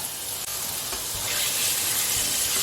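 Minced mutton with a little fat frying alongside ground onion, ginger and garlic paste in a pan, giving a steady, loud, close sizzle and hiss that builds slightly and carries on without pause.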